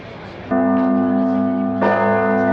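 A church bell in Sicily rings loudly nearby, with two strong strikes whose rich, humming tones sustain and overlap between them.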